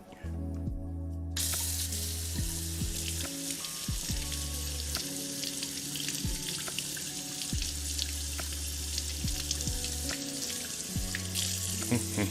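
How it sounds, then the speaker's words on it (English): A kitchen knife gets rinsed under a running tap during a shrimp fra diavolo cooking class, a steady, close hiss of water sustained throughout over faint background music. "Let's give our knife a little rinse though."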